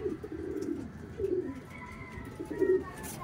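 Racing pigeon cooing inside a loft: a few soft, low throaty coos in short bursts, close by, over quiet background noise.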